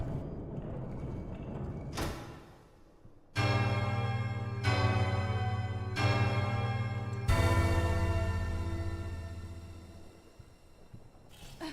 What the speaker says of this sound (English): We got a big-ass bell. So this is going to chime for us